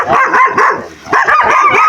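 Several dogs bark and yip close by in rapid, overlapping bursts, with one brief lull before the barking picks up again.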